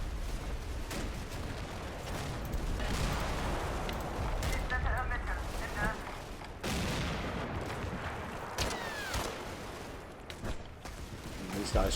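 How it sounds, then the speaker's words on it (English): Mortar rounds dropping onto a main street in the war game Combat Mission: Battle for Normandy, heard as repeated distant booming explosions mixed with scattered gunfire over a continuous battle din, with talk in places. "Jen must have a mortar team back here somewhere. Dropping rounds on the main street."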